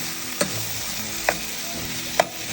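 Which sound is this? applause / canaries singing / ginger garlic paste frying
ginger garlic paste frying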